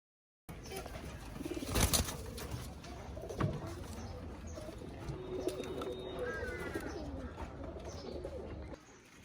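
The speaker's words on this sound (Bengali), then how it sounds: "এই গুগু পাখিটা আমাদের খামারে অনেক দিন থেকে সিঙ্গেল পড়ে আছে" Gugu doves coo softly on a pigeon farm, with low repeated calls and a few bursts of wing flapping nearby, set against steady farm background noise.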